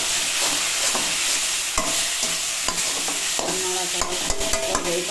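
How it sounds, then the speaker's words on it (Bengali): Gathi kochu (taro) pieces fry in hot oil with salt and turmeric, a continuous sizzle punctuated by repeated sharp clacks of a spatula stirring against the pan. "তেল দিয়ে দিয়েছি, এখন গাটি কচুগুলো দিয়ে দেবো।"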